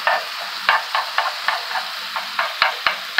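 Shrimp being stirred with onions and garlic in a hot pan, a steady sizzle broken by about a dozen short scraping strokes of a utensil at an even rhythm, close and clear with no talking.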